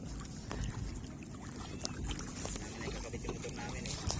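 Paddles dip and stroke through water beside a small wooden fishing boat, soft splashes and knocks repeating under light wind noise, fairly quiet and close.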